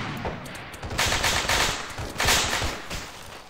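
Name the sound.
heavy machine gun fire in the video game Arma 3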